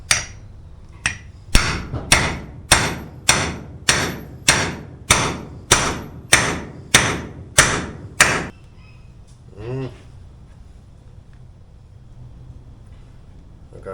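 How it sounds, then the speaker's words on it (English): Steady hammer blows ring out on a heated metal part of a 1970 Suzuki TC 120 Trail Cat motorcycle, about a dozen evenly spaced strikes, loud and close, then stopping, followed by a short rattle and quiet. "And then I'm going to try to hit it with a hammer again."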